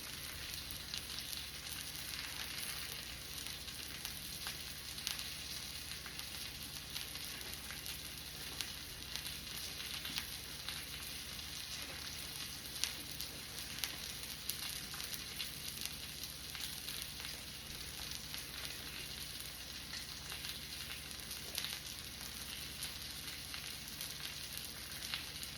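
A ribeye steak fries in a pan over low heat with a soft, continuous sizzle and crackle that holds steady throughout, with no talk over it.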